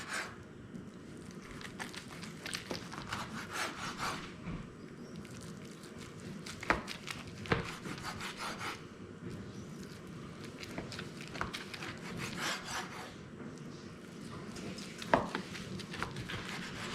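A knife slices applewood smoked brisket into quarter-inch chunks on a board, with soft, irregular taps and cuts that are faint and close. Low background noise runs underneath.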